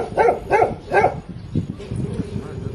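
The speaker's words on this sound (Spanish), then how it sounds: "cuando los perros ladran también es por algo" Dogs bark outdoors at night, three loud repeated barks in quick rhythm followed by softer barking and background noise.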